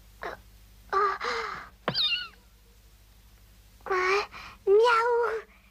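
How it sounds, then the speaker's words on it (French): A kitten meows repeatedly, five or six short, high, wavering cries in two clusters with brief quiet gaps between them, close and clear. "Miaou!"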